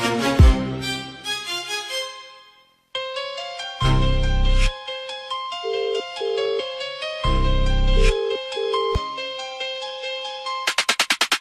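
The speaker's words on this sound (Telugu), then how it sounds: "ఫోన్ లిఫ్ట్ చేయట్లేదు అతను?" A phone rings unanswered during a call, playing a bright melodic ringtone with repeating phrases and pulsing bass notes that runs loud and steady for several seconds.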